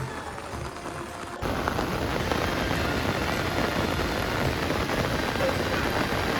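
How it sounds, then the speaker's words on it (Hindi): Heavy rain pours steadily at the Har ki Pauri ghats in Haridwar, a loud, continuous hiss that intensifies sharply after the first second and stays dense throughout. "बारिश फिर से तेज़ हो चुकी है।"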